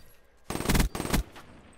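Two rapid bursts of automatic gunfire in a multiplayer shooter game, each a tight rattling string of shots, separated by a short pause and fairly close.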